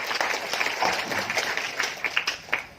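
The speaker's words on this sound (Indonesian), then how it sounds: "Boleh tepuk tangan untuk." Audience clapping at a ceremony opening a state Christian religious institute in Kupang, a scattered, fairly faint round of applause with uneven claps throughout.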